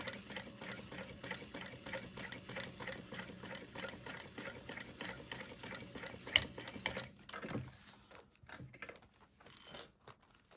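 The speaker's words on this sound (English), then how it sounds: "I'm just kind of hand cranking in parts, holding onto the hand wheel so it doesn't go too fast" A sewing machine, cranked slowly by hand at its hand wheel while stitching a wallet, gives a steady, even ticking rhythm for about seven seconds, then slows into a few scattered clicks and handling noises.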